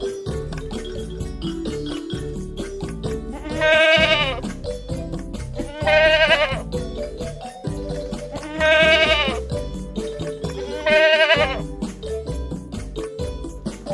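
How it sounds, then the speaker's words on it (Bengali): Goat kid bleating in four separate wavering calls spaced a couple of seconds apart, set over a steady musical backing in a children's alphabet rhyme. "ছয়ে ছাগল ছানা লাফিয়ে চলে"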